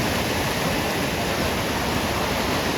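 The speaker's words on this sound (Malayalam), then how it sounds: "നല്ല ഒഴുക്കാട്ടോ അവിടെ വെള്ളത്തിന്" Strong, continuous rushing water of the Souparnika River fills the scene, a dense steady roar of a fast-flowing river with no speech.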